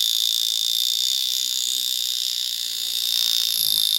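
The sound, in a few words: Vulcain Cricket mechanical alarm watch ringing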